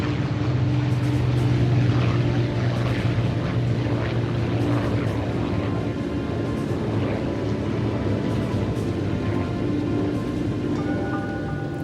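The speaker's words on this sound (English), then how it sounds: "B-29 Superfortress Boxcar takes off." A B-29 Superfortress bomber, Boxcar, on takeoff, its piston engines and propellers giving a steady, loud, droning roar with a low tonal hum that holds for the whole stretch, with no voices.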